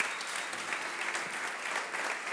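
A church congregation applauding, a steady dense wash of many hands clapping at once, fairly loud and continuous with no voices standing out.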